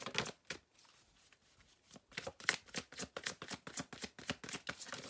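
Oracle cards being shuffled by hand in a rapid run of crisp riffling bursts, faint at first, then loud, close and steady, with no talking.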